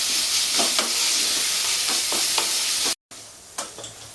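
Ginger garlic paste stir-fried in a pan for a Bengali jackfruit chop filling, giving a steady close sizzle with scraping stirs, a brief cut near three seconds, then more sizzling and spoon strokes.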